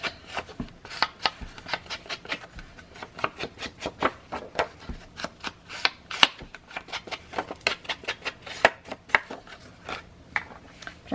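Paper being cut out with scissors for a handmade card and faux envelope insert, a close run of quick crisp snips and rustles in steady rhythm with no voice.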